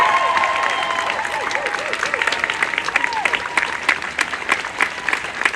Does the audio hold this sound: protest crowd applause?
yes